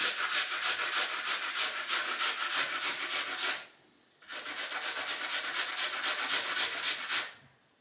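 Rapid rhythmic rasping of an apple being grated, close up, in two long runs separated by a short pause.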